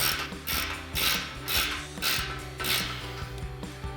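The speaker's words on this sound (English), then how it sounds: "I'm gonna take my 14mm wrench here on the front of the bolt and my 15mm socket. And we'll go ahead and tighten these up a little bit." A 14mm wrench and 15mm socket tighten exhaust bolts on a 2019-2023 RAM 1500 with a Corsa dual exhaust; close, rhythmic ratchet clicking comes in quick bursts about every half second, with metallic rubbing between them.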